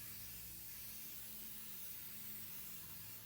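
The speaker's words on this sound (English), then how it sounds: "I get some 3M adhesive," Can of 3M spray adhesive being sprayed onto a foam head, a steady continuous airy hiss lasting the whole moment, fairly quiet and with no talking.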